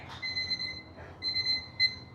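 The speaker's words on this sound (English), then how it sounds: "And there's the timer." A workout interval timer beeps in three short electronic tones spaced evenly apart, quiet and clear against a faint background.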